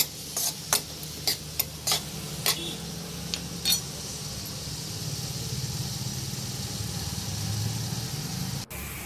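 Onions frying in oil in a pan for brinjal and tomato curry: a few sharp stirring clicks early on, then a steady low sizzle that carries on alone.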